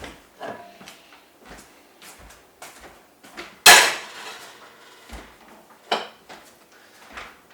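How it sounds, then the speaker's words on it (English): Metal pans clank and knock on a stove, a series of close, separate bangs and scrapes with one loud crash midway, no voices. "so I'll get a fry pan"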